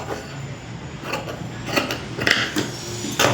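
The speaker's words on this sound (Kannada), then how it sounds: "ಎಕ್ಸ್ಟ್ರಾ ಏನಿದೆ ಇದನ್ನು ಟ್ರಿಮ್ ಮಾಡ್ಕೊಳ್ಳೋಣ." Scissors trim off extra fabric while cutting and stitching a Baahubali-style garment, a series of close, crisp snips and mechanical clicks that grow louder and sharper toward the end, with no talking.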